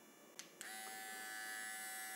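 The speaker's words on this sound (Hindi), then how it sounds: "ये हमने ट्रिमर को ऑन कर लिया" An electric hair trimmer for fine cutting switches on after a couple of clicks and keeps up a steady, close electric hum, alone with no voices.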